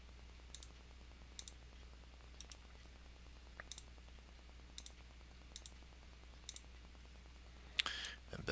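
A computer mouse clicks quietly and close by, with sharp single and double clicks spaced about a second apart in an otherwise hushed room, and a slightly louder rustle at the end.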